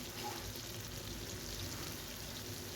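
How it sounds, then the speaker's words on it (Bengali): Paneer cubes frying in hot oil give a steady, close sizzle that holds evenly throughout, with no voices over it. "পনিরগুলো আমি ধীরে ধীরে দিয়ে দিচ্ছি তেলের মধ্যে"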